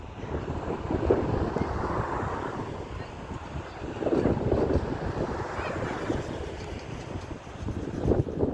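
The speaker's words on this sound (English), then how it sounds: "the wind is picking back up, if you can't hear it by the audible noise" Steady outdoor wind buffets the microphone during a partial solar eclipse viewing, a continuous low rumbling roar with gusts swelling and easing throughout.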